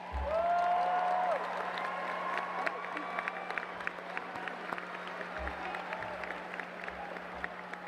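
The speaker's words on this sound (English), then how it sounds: "please stand up so everybody can give you a round of applause" A graduation crowd applauds steadily for several seconds, dense clapping with some cheering, gradually thinning toward the end.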